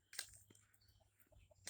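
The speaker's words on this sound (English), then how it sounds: "There's the rooster." A rooster and chickens on a small hobby farm let out a few short, faint clucks and calls spaced across a quiet moment, with brief sharper bursts near the start and end.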